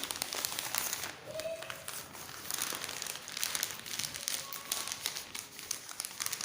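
Newspaper is crumpled and stuffed into a folder while laboratory glassware is prepared: continuous close crinkling and rustling paper noise, fairly loud, with no pauses.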